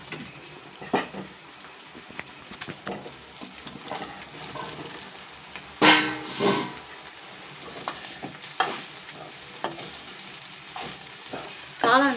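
Mushrooms hit a pan of onion, ginger garlic paste and curry leaves and fry with a soft, continuous sizzle. A spoon clinks and stirs now and then, and a few louder bursts of clatter stand out over the frying.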